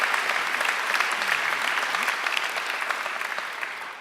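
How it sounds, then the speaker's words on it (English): Applause from a large audience at a graduation ceremony, a steady dense wash of clapping throughout that fades slightly toward the end. "I think she deserves another great round of applause."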